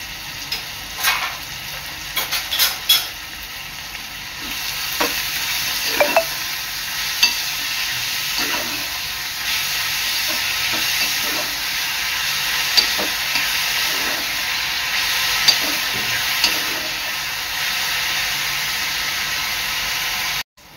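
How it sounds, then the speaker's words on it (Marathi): Chopped onion fries in a pan for a ridge gourd chutney, a steady close sizzle with repeated scraping stir strokes across the pan and no talking. "कांदा आहे ना आपला चांगला लाल होईपर्यंत शिजवून घ्यायचा आहे"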